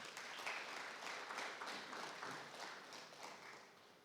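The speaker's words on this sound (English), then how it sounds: "I want us to please give a round of applause to that." Audience applause at an agricultural policy dialogue session, a steady wash of many hands clapping that holds fairly loud and even for about four seconds before tapering slightly, with no speech over it.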